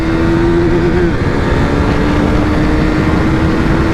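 A KTM motorcycle engine held at top speed in third gear, a loud, steady droning whine with heavy wind rush throughout, close and unbroken.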